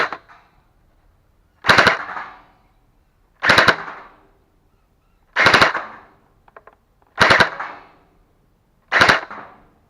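Five sharp, loud single shots from a stock-spring Scar V2 gel blaster, fired at an even pace about two seconds apart, each a crisp snap with short ring-off and silence between.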